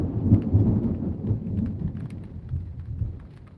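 Thunder from a thunderstorm over Pittsburg, Kansas rolls and rumbles low and steady throughout, mixed with the patter of rain, fairly close and without any talking.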